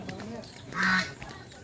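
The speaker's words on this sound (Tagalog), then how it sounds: "pato ayan may duck" A single brief nasal honk from a duck, a short quack rising over background chatter and outdoor bustle by the Daong River in Tanay, Rizal.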